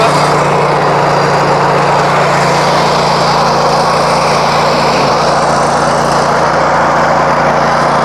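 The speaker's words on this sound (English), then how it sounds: "You can hear the torque in that motor" Honda iGX800 engine on a power wash trailer revving hard, a loud, steady, close-up high-pitched drone that holds without a break, with no talking over it.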